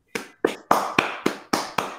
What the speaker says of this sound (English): Oh, I got a clap.